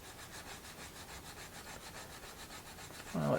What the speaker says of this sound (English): file it down to give me a little bevel on the end here